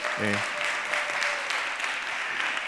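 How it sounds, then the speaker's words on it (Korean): Congregation at a Sunday youth worship service applauds in encouragement, steady dense clapping throughout with a brief voice near the start. "박수로 한번 격려해 주시면 감사하겠습니다"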